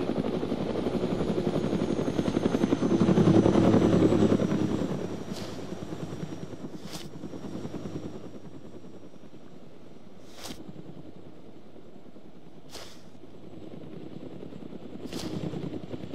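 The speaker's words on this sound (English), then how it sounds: "Sounds like that chopper's coming back." Helicopter in the video game DayZ, a steady rotor drone filling the first several seconds, loudest around three to four seconds, then thinning to a fainter hum, with a few sharp cracks cutting through afterward.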